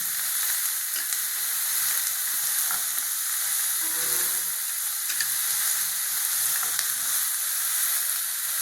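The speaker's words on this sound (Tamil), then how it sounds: "வெங்காயம் நல்லா வதங்கணுங்க" Chopped onions sauté in a pan with ginger-garlic paste for a butter paneer pepper fry, giving a steady, even sizzle that holds throughout with no talking.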